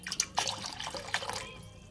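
Water is poured little by little into a container to make sugar syrup for a sweet, producing a close, gurgling trickle with a couple of sharp splashy onsets before it fades out.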